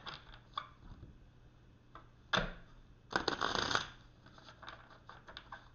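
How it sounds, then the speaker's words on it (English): Tarot cards being shuffled by hand, quiet and close, with soft riffling bursts and a louder flurry of flicking cards partway through. "I'll give it one more shuffle"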